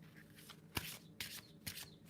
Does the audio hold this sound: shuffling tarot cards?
yes